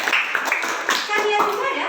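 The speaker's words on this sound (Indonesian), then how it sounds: "Tepuk tangan dulu untuk kalian ya." A classroom of students claps together in a brief round of applause, mixed with a teacher's voice talking over the uneven patter of hands.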